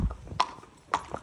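A small adult pony's hooves clip-clop on a main road, two sharp, distinct hoof strikes spaced apart, fairly faint and alone.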